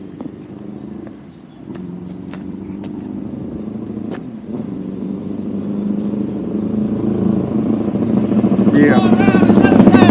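A Suzuki GSX-R 750 motorcycle rides past on the road, its engine rumble swelling steadily louder as it approaches, with people talking nearby.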